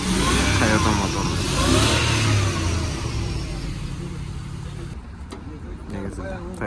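A Toyota-engined vehicle at a car market revs loudly, the engine note rising and holding under nearby talk, then easing to a lower idle near the end.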